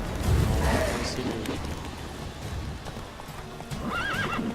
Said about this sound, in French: Le cheval il panique là.